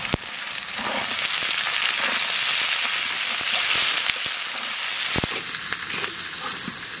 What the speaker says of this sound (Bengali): কচুগুলো ভালো করে ভাজে নিলাম